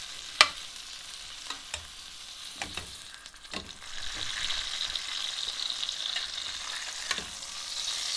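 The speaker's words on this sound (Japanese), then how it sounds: "一番肉厚であまり火が入ってない部分を触ってまだ柔らかいので重点的にそこにアロゼをしていきます" Hot fat sizzles and spits in a pan as a duck breast is basted, its thickest part getting repeated spoonfuls, with sharp crackles and clinks over a steady frying hiss.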